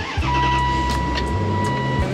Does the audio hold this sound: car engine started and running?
yes